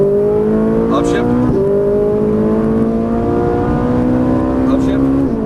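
Ferrari 458 Italia engine at full throttle on a racetrack, a loud, rising high-pitched wail that climbs steadily, briefly dips at a gear change and climbs again, heard from inside the car.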